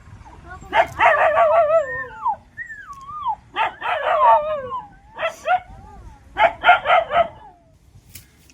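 Several dogs bark and howl near the microphone, loud yelping bursts in four clusters with a drawn-out whining howl between them, over a low background murmur.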